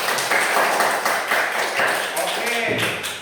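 A classroom of students claps hands together in a brisk, continuous burst of applause, mixed with voices and some shouting throughout.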